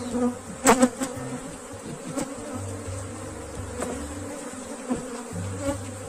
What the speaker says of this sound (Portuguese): uma melgueirinha pequena, porque a partir de agora esse enxame vai precisar de muito espaço.